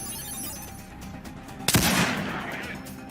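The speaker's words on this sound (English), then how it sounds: "So I'm going to shoot long range." A single long-range gunshot in a turn-based video game rings out as one sharp, loud crack with a lingering tail, following a stretch of quieter background sound.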